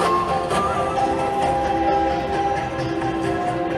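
A steady rumbling train din with sustained tonal whine and rattling, loud and close, like riding inside a subway car in downtown Toronto.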